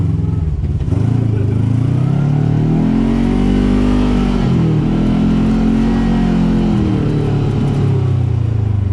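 A side-by-side off-road vehicle, among RZR, KRX, YXZ and Maverick machines on a spring ravine trail ride, revs hard and close, its engine note rising and falling in loud sustained surges with rattling clatter underneath.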